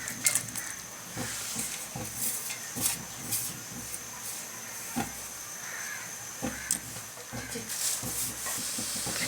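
Meat sizzles and hisses as it fries in a pot for a degi gosht curry, a continuous soft crackle at low volume with scattered sharper pops and spatters throughout.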